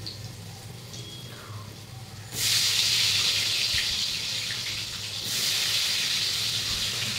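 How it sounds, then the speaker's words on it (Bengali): Water hits a hot pan of frying spices for a hilsa fish curry, setting off a sudden loud, steady hissing sizzle that carries on over a faint background hum. "এই তো এখন জল ঢেলে দেবো, একটু ভেজে নিই।"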